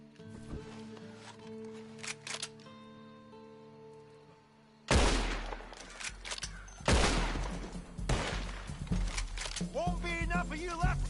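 Gunfire in the online Western game Red Dead Online, loud bursts of shots after a quieter stretch, crackling volleys repeating over several seconds with game sounds between them.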